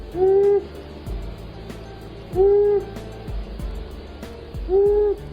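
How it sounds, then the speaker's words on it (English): Long-eared owl hooting, three loud, clear hoots spaced about two seconds apart, each a short tonal call standing alone over a low background rumble. "The male also vocalizes with a hooting sound that can be heard more than a mile away."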